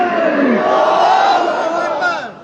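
A large protest crowd at Islami Bank chants Nara-e-Takbir slogans in unison, a loud, close, rising roar of many voices sustained for a couple of seconds.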